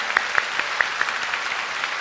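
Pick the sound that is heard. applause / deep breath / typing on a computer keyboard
applause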